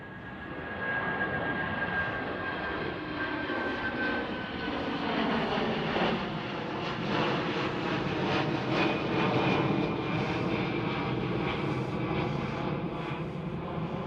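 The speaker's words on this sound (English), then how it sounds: "A330 passenger to freighter conversion" Airbus A330 freighter, a passenger-to-freighter conversion, rumbles past at Amsterdam Schiphol, its jet engines roaring steadily and loudly with a whining tone that slowly falls, filling the scene without any voices.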